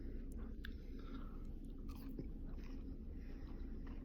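Someone bites into and chews crispy fries with sauce, producing soft close-up crunching and mouth sounds against a quiet room background, with no talking.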